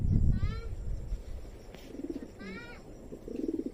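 Pigeons coo in low, soft repeated phrases at close range, with a few brief chirps mixed in over a murky background of household noise.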